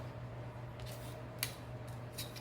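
A design cutter slices through leather in a few faint, short scraping strokes over a quiet background hum, close up and without speech.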